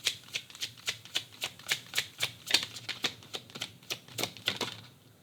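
Tarot cards riffle and flick close by in a steady run of quick crisp snaps, roughly three to four per second, with a soft papery rustle between them.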